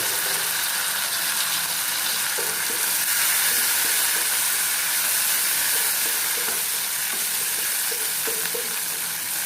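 Onions sizzling steadily in hot oil in a pan while cooking a Telangana green gram snack, with occasional stirring scrapes and a continuous loud hiss.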